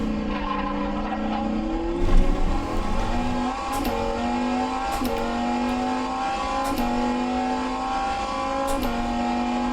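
Sports car engine in rFactor 2 sim racing, loud and steady, with the pitch climbing through repeated upshifts, each marked by a brief drop and click, and no talking.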